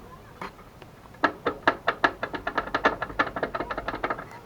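Rattling from worn ball joints and bearings: a fast series of sharp knocking clicks, loud and close, starting with a few isolated taps then building into a steady irregular clatter with no voices.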